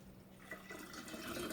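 Water pours into a jar of homemade kombucha, a faint liquid trickle that grows fuller as the vessel fills.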